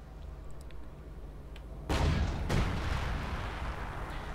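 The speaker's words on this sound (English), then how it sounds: "Another incendiary barrage there on the Pack 40 this time around, maybe." Incendiary artillery shells slam down in Company of Heroes, two sharp booming impacts about half a second apart followed by a lingering rumble over battle ambience.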